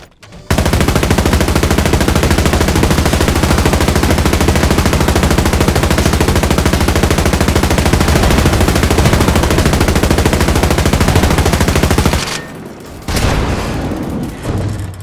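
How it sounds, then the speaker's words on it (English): Kugelhammer shotgun in a first-person shooter game fired in a long, rapid, unbroken burst with a high rate-of-fire upgrade, loud and dense for about twelve seconds before stopping, followed by brief fainter shots. "This one does get the award for fastest firing shotgun in this series."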